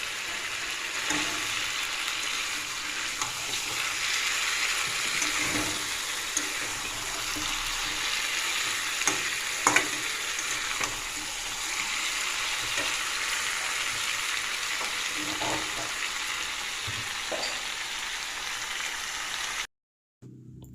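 Chicken frying and being stirred in a pan for a red, well-browned home curry, a steady close sizzle with scattered scraping clicks of the spoon throughout, no talking.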